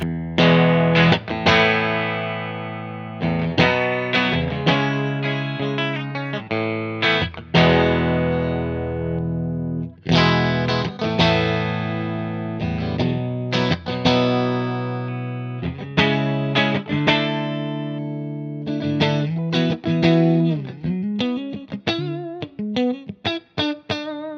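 Distorted electric guitar with a bright, biting bridge-pickup tone, strummed chords and riffs played loud and close with brief pauses between phrases.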